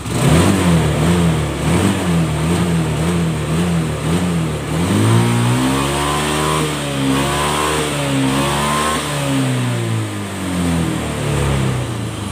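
A Honda Scoopy FI scooter with a delayed, sluggish throttle revs up and down close by, its engine note rising and falling steadily throughout with no one speaking.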